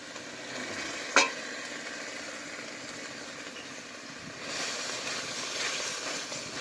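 Spice paste of ground cashew, almond, sesame, melon seed and poppy seed sautéing in a pan for a coconut potol curry, giving a steady soft sizzle with one sharp utensil clink early on and a slightly louder fry toward the end.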